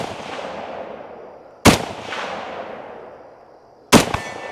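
An FN FAL .308 battle rifle fires two sharp, loud shots about two seconds apart outdoors. Each blast leaves a long rolling echo that fades away, and no one speaks.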